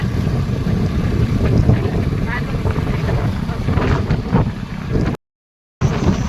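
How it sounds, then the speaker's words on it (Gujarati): Strong wind buffets the microphone outdoors in a steady, loud roar with gusting swells, briefly cutting out near the end before resuming. "પવનની ગતિ પણ એટલી બધી છે"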